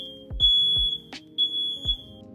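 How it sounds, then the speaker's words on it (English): A smoke alarm, set off during laser screen printing of T-shirts in a small room, emits a steady high-pitched electronic tone with a brief chirp, while low thuds and clatter sound nearby. "The fire alarm went off."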